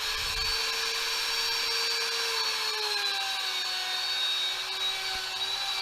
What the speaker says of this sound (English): Move the spacers to the other side and cut the last flute.